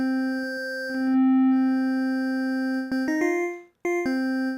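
A bright, buzzy synthesizer spectral oscillator plays a raw waveform, sustaining on one pitch, then clicking through a few quick retriggers and changes in timbre before holding steady again.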